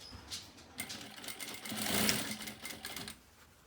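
A sewing machine stitches folded fabric for a table runner, its fast steady run of needle strokes rising and holding near the microphone, then easing off, with no talking.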